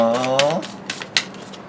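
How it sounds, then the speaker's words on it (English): Soft, rapid riffling and papery taps from a quick tarot card shuffle, with a voice speaking at the start and a few sharper clicks afterward. "Do a little quick shuffle."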